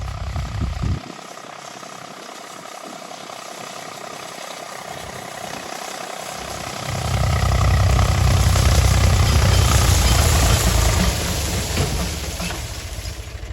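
A heavy tractor engine drones steadily in a field, growing louder and rougher midway as it works harder, then easing slightly toward the end.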